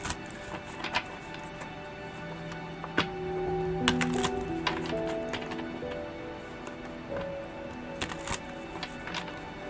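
A deck of tarot cards being shuffled during a live call-in reading, soft irregular riffling and tapping of cards close by, with faint background music tones underneath and no talk over it.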